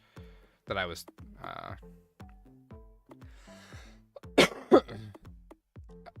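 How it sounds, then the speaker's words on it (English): A couple of sharp coughs burst out amid ongoing conversation, loud and close to the microphone. "sorry, I didn't mean to cough in you guys' ears."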